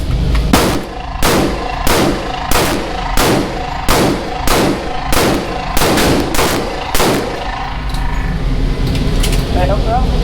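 A 5.7 pistol fires about a dozen loud, sharp, close shots in an even rhythm, then the shooting stops and a steady background hum remains.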